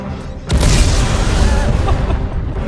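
A single loud grenade blast in a video game hits suddenly and then rumbles on as a long, heavy roar that fades only slightly by the end.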